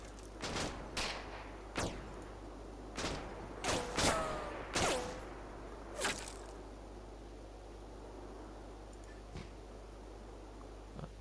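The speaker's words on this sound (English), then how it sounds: "Mortars firing." Mortars fire in the WWII video game Combat Mission: Battle for Normandy, a series of sharp thumps, some close together and others spaced apart, over a low background hum.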